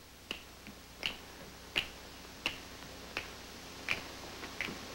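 Finger snapping on an old variety television show, crisp isolated snaps at a steady walking tempo, about eight in five seconds, moderately close over a faint hiss, with no talk.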